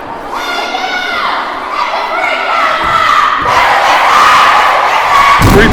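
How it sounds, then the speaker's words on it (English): A Freire school cheer team shouts and chants loudly in a gym during a boys' basketball game, their high voices rising in sustained, overlapping cries with crowd noise swelling underneath and a sharp thump near the end. "The cheer team from FREIRE trying to distract him"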